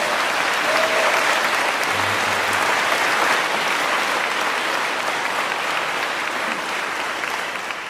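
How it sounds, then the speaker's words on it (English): A crowd of prison graduates applauds steadily at their graduation, loud sustained clapping that fades slightly toward the end. "Give yourselves a round of applause, man."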